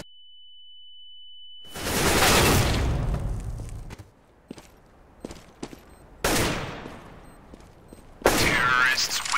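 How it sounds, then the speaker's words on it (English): Counter-Strike flashbang and gunfire: a long high ringing tone, then loud bursts of shots and blasts with scattered sharp cracks between them. "Throwing a flashbang."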